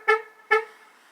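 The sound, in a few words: car horn sounding when pressing lock button, 2009 Jeep Patriot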